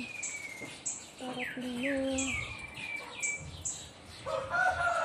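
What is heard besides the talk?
birds calling noisily near banana trees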